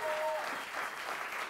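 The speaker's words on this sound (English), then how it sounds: "Give a huge round of applause for the wonderful bar staff of Myxa Cafe" Applause from a stand-up comedy crowd at Myxa Cafe in Berlin, a dense, steady wash of many hands clapping together for the bar staff, fairly close and sustained throughout, with a faint voice briefly audible at the start.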